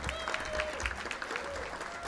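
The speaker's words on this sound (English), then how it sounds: "let's get a round of applause for Frankie Camerano" Audience applause at a chamber of commerce breakfast, steady dense clapping from a crowd filling the room, continuous and moderately loud throughout.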